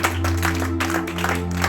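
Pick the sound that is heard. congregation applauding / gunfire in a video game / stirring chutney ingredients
congregation applauding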